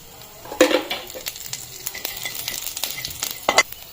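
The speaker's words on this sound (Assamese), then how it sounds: "মাছ ভাজা তেলতে মই পিয়াজ জ্বালা হেইলা দি দিম" Onion and green chili fry lightly in fish-frying oil with panch phoron, clinking stirs and spoon taps against the pan, quiet overall with a few sharper clatters.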